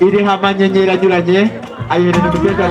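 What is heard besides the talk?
No distinct noise like a dog, phone or traffic.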